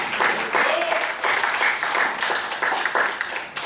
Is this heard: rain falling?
no